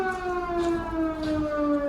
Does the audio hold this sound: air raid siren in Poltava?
yes